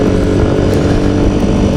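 A de-restricted motorcycle engine drones steadily and loudly with the throttle held open, heard up close while riding, with no breaks.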